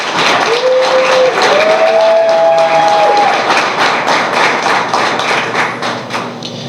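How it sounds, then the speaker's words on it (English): An audience at a school sports signing ceremony gives a full round of applause, a loud, dense clapping crowd with a few brief tonal whistles or cheers early on, gradually tapering toward the end. "can you all please give these 2 young scholars a round of applause?"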